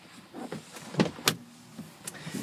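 Power sunroof motor whirring open inside the cabin of a 2013 Dodge Ram 1500 Sport pickup, a few short mechanical whirs and clicks heard close up without any talk.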